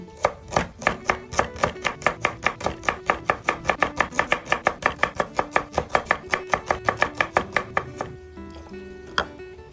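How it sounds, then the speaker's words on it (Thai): A knife chops shallots rapidly and steadily on a cutting board, dozens of crisp even strokes close up, stopping near the end. "หั่นหอมแดง"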